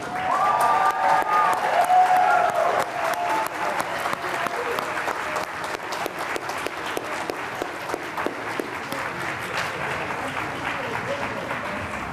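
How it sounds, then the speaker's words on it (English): Round of applause for job training graduates at a Pine Street Inn graduation ceremony, sustained clapping from an audience that starts loud and stays steady for the full stretch, with a brief murmur of voices early on. "May we have one more round of applause for today's graduates?"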